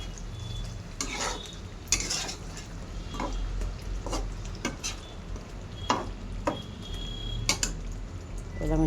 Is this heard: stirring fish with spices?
yes